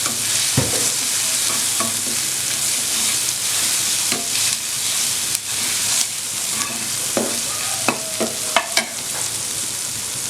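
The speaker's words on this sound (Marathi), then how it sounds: "आपण थोडा अद्रक लसूणचा पेस्ट घालणार आहे, 1 चमचा." Ginger garlic paste sautés in hot oil in a pan for restaurant-style kadai paneer, giving a steady sizzle with irregular scraping and stirring clicks from a spoon.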